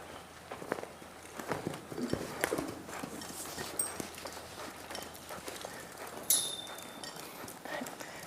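Horse hooves clip-clop at a walk over ground during saddle habituation, a steady run of moderately close footfalls with a brief sharp rattle partway through and no talk.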